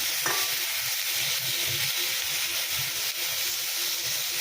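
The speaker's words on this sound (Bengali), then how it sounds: "এগুলোকে একটু ভাজা ভাজা করছি" Onions and other ingredients for a magur catfish curry sizzle steadily in a pan, a constant hissing fry with occasional stirring scrapes and no speech.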